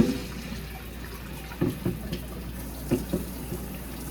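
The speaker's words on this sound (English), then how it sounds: "So cleaning the rice here." Rice being rinsed under running water, a steady low trickle with a few sloshing bursts as the grains are stirred, close and fairly quiet.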